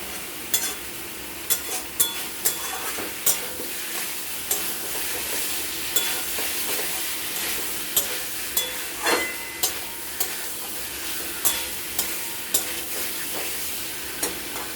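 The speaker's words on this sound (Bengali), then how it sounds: "ভালো মতো করে কষতে হবে।" Spice masala for a fish-head, pumpkin and potato curry fries in a pan under a constant sizzle, punctuated by regular sharp clacks of a spoon stirring against the pan, close and unaccompanied by speech.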